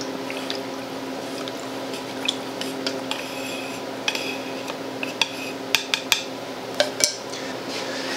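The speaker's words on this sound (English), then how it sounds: "Before you use it, obviously you want to stir it." A can of wood stain stirred for restoring a mid-century dining chair, a steady liquid churn broken by scattered light clinks and taps of the stirrer against the can, with no talking.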